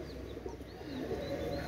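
Pigeons of imported fancy breeds such as Teddy and high-flyers cooing softly in low, rolling murmurs that run steadily throughout, with no voices over them.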